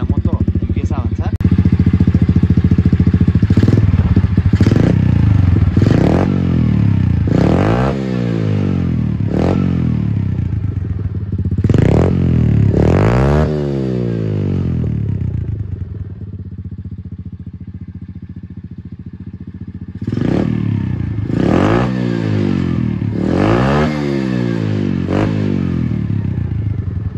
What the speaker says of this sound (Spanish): Ahorita que le doy una vueltita para que lo escuchen